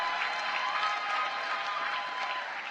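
Moderate, even applause from the audience at a winter commencement ceremony honoring nursing graduates, a steady, somewhat distant wash of clapping from a large room, with light crowd murmur underneath.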